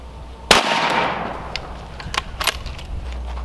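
A single sharp, loud FN 5.7 gunshot cracks against tungsten carbide and steel, followed by a decaying ring and a few fainter clinks and echoes outdoors.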